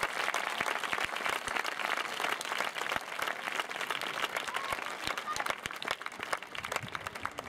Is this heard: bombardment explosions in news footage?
no